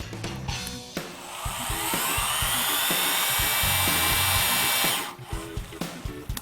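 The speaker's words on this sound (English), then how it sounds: "When the gun senses the 450 foot-pounds of torque, it'll shut off automatically" A torque wrench gun tightens a bolt to 450 foot-pounds, producing a sustained loud mechanical whirring for about three seconds that stops abruptly, with brief clanks before and after.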